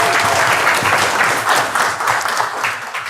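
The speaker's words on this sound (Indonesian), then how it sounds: "Ya, tepuk tangan dulu buat kita semua sekalian ya." A loud, close wave of applause from the audience at a talk on the importance of water for the body, dense clapping that keeps going and eases only a little near the end.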